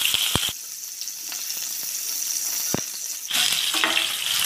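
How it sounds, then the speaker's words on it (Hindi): Potatoes fry in hot oil for a spicy brinjal and potato curry, a dense, continuous hiss that swells louder near the end, punctuated by a few sharp utensil knocks early on, close up with no voices. "मैं पहले आलू को फ्राई कर रहा हूँ"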